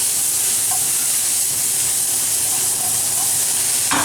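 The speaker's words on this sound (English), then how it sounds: "Let's see how I'm gonna fry the bacon." Bacon sizzles in a hot pan with no added oil, cooking in its own fat; a loud, steady, dense hiss fills the whole stretch, with a few faint kitchen clicks.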